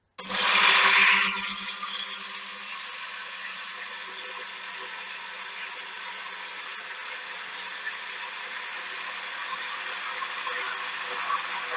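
An immersion blender making mayonnaise: a high-pitched motor whirs loudly for a second, then settles into a steady, fainter buzzing hum that runs on without pause.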